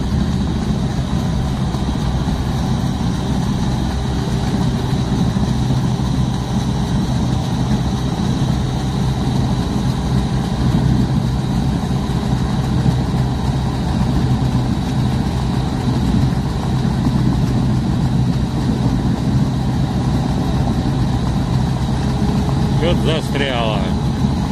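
An amphibious river-cleaning boat that both floats and drives runs its engine, a steady, loud low rumble that continues unbroken throughout, with a brief faint sound near the end.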